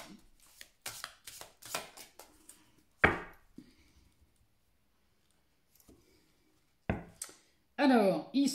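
Oracle cards being shuffled by hand for a December tarot reading, giving a few short papery riffles and taps with quiet gaps between them, plus a brief fluttering burst near the end.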